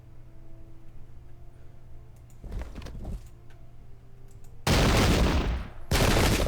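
Musket volleys in a Battle of Brandywine video game, with a couple of softer distant shots and then two loud, close crackling volleys that fill the second half over faint ambient background.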